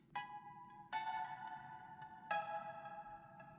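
A quiet layered synth part combines a plucky synth with a string sound underneath: three or four bright plucked attacks, each followed by a sustained, slowly decaying tone.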